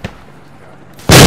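A frag grenade detonates in an Arma game, a sudden loud, close blast breaking a hush after a faint pop.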